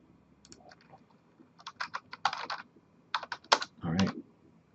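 Keys on a computer keyboard are typed in short, quick bursts, close and fairly quiet, with brief pauses between clusters of clicks.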